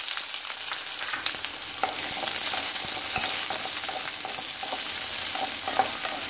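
Chopped onions sautéing in hot oil for a fish curry, a steady loud sizzle with frequent stirring scrapes throughout, no talking.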